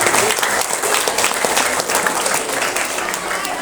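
Loud, dense applause fills a primary school farewell and graduation ceremony for sixth graders at SDN 1 Putat, many hands clapping steadily and close, with a few voices faintly mixed in.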